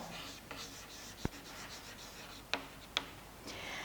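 Pen scratching on paper is heard as a chemistry problem is written out by hand, soft and close, with a few sharp taps between strokes over a faint room hiss.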